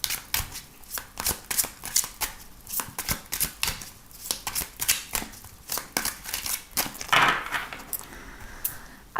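Tarot cards being shuffled in a steady run of crisp riffling bursts, close and fairly quiet, with a brief brighter rustle near the end and no voices.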